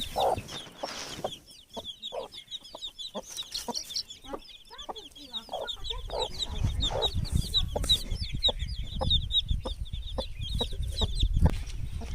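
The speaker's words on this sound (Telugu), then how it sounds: "కోడి పిల్లలు చేస్తుంది. లోపల చిన్న చిన్న పిల్లలు ఉన్నాయి." A hen with small chicks clucks repeatedly while the chicks keep up a constant high peeping, with a low rustling rumble building in the second half.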